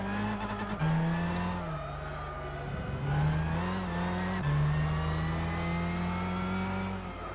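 A Super GT500 race car engine in Gran Turismo 6 holds a steady, loud, buzzing drone, with pitch shifts as it revs up and down through gear changes, heard alone and up close.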